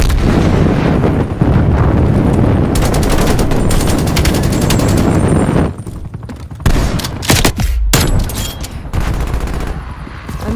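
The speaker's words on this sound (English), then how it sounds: "Throwing flashbang." A flashbang grenade goes off amid a Call of Duty: Cold War free-for-all match on the Slums map. It is buried in loud, dense, continuous gunfire and booming blasts, with a few brief drops in the din.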